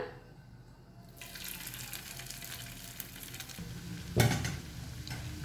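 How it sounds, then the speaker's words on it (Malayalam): Chicken pieces bubbling and sizzling in hot oil, the sizzle swelling louder as more pieces drop in, close and continuous. "ഇനി അതേപോലെ തന്നെ നമുക്ക് അടുത്ത ബാച്ചും ഫ്രൈ ചെയ്തെടുക്കാം."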